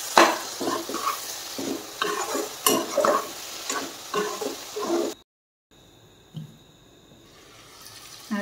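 Duck meat frying with ground spices in a pan, stirred steadily with a utensil, so loud sizzling and scraping strokes repeat for several seconds before a short pause and softer frying.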